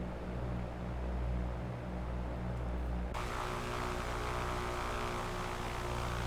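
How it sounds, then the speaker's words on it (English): Steady roaring engine noise from a Boeing 747 in a flight simulator game, a continuous broadband wash that grows harsher and brighter about halfway through, as if the jet blast swells. "jet blast from these engines here."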